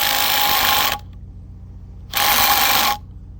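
Impact wrench tightening the alternator nut on a semi truck, two loud rattling bursts of about a second each separated by a short pause, close up and with no talk.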